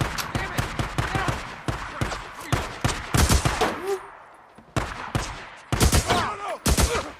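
Loud gunfire in Days Gone, with irregular bursts and single shots over several seconds, close up, with brief gaps and a shouted voice partly mixed in.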